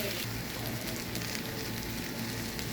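Okra sautéing in a pan for a stir-fry, a dense continuous sizzle and crackle close up, steady and loud throughout with no talking.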